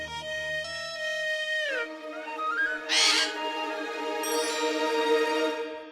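A parrot in an Aladdin-style fantasy serial gives a loud, close, drawn-out squawking call with a harsh burst in the middle, heard alone without talk.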